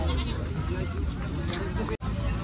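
Goats bleat amid the busy crowd of the Jama Masjid goat market, mixed with steady chatter and voices nearby.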